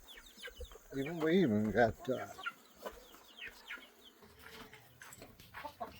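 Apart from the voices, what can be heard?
chickens clucking in a barnyard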